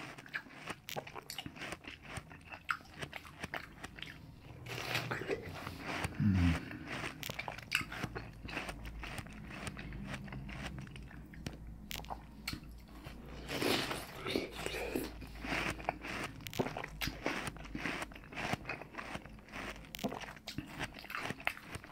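Fresh watermelon being bitten and chewed close up, with moist crunchy bites and wet chewing sounds, a prominent crunch around the middle, while a soft voice talks quietly over much of it.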